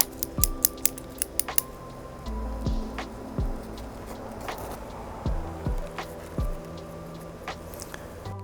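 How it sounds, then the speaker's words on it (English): Scissors snip through a felt bonsai container for a Barbados cherry, a quick run of sharp close cuts at the start followed by slower, scattered snips and crunching, with no talking. "I'm just gonna go ahead and cut this off anyways."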